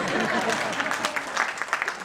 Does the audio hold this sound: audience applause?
yes